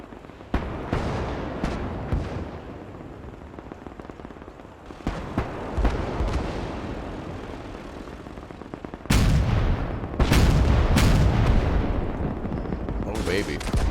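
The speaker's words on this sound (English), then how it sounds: "Let's wait for the artillery to fire." Artillery and gunfire in the Gates of Hell war game, with repeated heavy booms and crackling bursts that grow louder and denser in the later part, while a voice talks at times.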